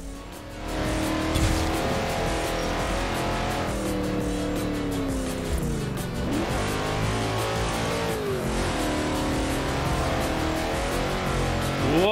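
Car engine in Forza Horizon 4's Hot Wheels expansion, a small car on 25-inch wheels, revving hard and steady with rising and falling pitch as it shifts, tyres squealing faintly underneath, loud and continuous throughout.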